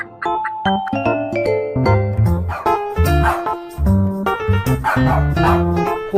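A dog barks in a quick run of loud, close yips and woofs, set against a bright, chiming melodic backing.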